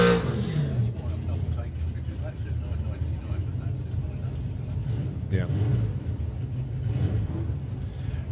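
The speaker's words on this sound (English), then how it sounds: "Warren looking for a 9 flat with the Camaro." Drag racing Camaro at Santa Pod Raceway, a low engine rumble that swells and fades with a loud, continuous roar under a commentator's voice.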